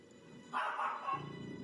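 A puppy gives one short, fairly faint bark, a single yip rising briefly above quiet background hum.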